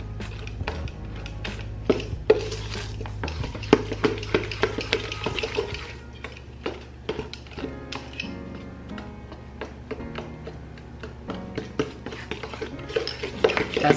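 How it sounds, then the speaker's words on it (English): A spoon stirs and mashes lumps of butter into an egg pie filling in a bowl, giving repeated scraping clinks and soft knocks against the dish at a steady, uneven rhythm, close and moderately loud. "And if you have lumps of butter, just take your spoon and just smash it out like that."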